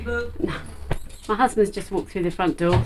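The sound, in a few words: dogs barking in the house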